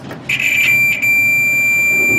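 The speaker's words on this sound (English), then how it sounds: "Use a multimeter with the continuity setting with the beeps." A multimeter on its continuity setting, testing a heating element from a GE electric dryer, gives a sharp electronic beep that stutters briefly, then holds as one steady tone.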